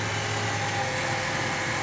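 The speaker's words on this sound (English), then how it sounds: "I'll leave you with another 20 seconds of awesome core idling engine" A 1993 Chevy Lumina APV's 3800 Series 1 V6 idles steadily, a smooth, even hum with a constant low tone and no voices over it.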